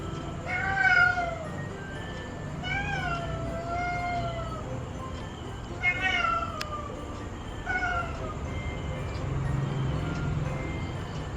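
A cat meows repeatedly at Christmastime, several drawn-out, wavering cries spaced a couple of seconds apart over a faint background murmur.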